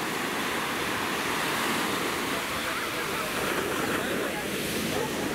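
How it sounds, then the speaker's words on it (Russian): Steady roar of big sea surf at Cleopatra Beach with waves breaking continuously, broad and unbroken, mixed with wind rushing across the microphone. "Волночки большие идут."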